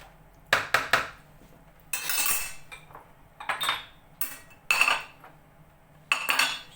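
A utensil stirs a cheese poğaça dough mixture in a bowl, producing irregular bursts of scraping and clinking against the bowl's sides, fairly quiet with short pauses between strokes.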